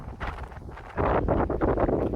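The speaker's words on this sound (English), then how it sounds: "it's pretty windy up here on the hill at Louis Lookout." Wind gusts buffet the microphone on a hilltop lookout, a rough, rumbling rush that strengthens sharply after the first second and stays loud and uneven.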